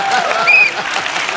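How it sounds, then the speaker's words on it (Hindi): Loud audience applause from a studio crowd at a comedy show, with a brief steady clatter of clapping and a few faint whistles on top. "जोरदार तालियां"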